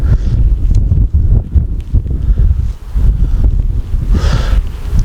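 Strong outdoor wind buffets loudly and steadily, a constant low roar with gusty surges and no voices heard.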